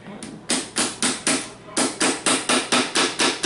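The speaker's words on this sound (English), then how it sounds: "You can use a tack hammer for this." A small tack hammer taps steadily, about a dozen sharp metallic strikes in an even rhythm, close and fairly loud with no talking.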